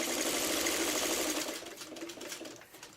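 A sewing machine stitches a quilt block in one fast, steady mechanical whirr that slows and fades midway, up close with no voices.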